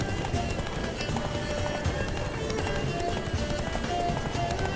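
Roach, Geralt's horse in The Witcher 3, gallops with steady hoofbeats close and loud, the running thud blending into a busy game soundscape with voices mixed in.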